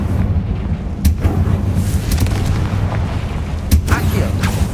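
Confringo fire spell explosions in Hogwarts Legacy, several sharp booming blasts over a rumbling game soundscape, with a voice casting spells now and then.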